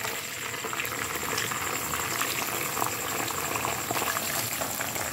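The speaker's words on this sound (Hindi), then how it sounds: "इन सब बैंगनों को अब हम फ्राई करेंगे" Eggplant pieces frying in oil for an achari aloo baingan curry, giving a loud, steady, dense bubbling sizzle that runs unbroken from start to finish with no voices.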